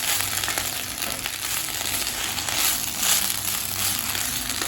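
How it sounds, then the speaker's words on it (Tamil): Curry leaves frying in a pan, a dense steady sizzle with crackling and occasional stirring scrapes, close and continuous with no talking. "இப்போ கருவேப்பிலையை நல்லா வதக்கிக்கலாம்."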